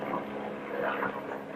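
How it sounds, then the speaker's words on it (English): A low, steady engine drone of a helicopter overhead, moderately loud and continuous, with no one speaking. "I think that's a helicopter."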